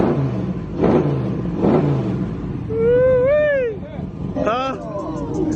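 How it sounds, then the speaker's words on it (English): A car engine revs in short bursts at a busy car show, with nearby voices talking and calling out over the rumble. "Let me hear you rev it up one time"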